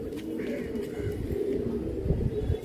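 Pigeons coo in a home loft, a steady low murmur of overlapping calls, close and continuous with no clear breaks.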